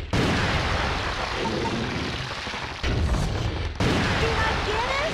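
Loud gunshots in the horror game Michigan: Report From Hell, a few sharp booming blasts in quick succession over a busy background, with a voice talking over them.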